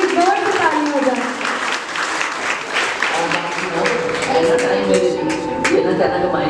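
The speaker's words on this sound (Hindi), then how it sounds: "एक बार आपके लिए जोर से ताली हो जाए।" An audience claps loudly for a public speaker, a dense burst of many hands that carries on steadily for several seconds, with voices mixed in beneath it.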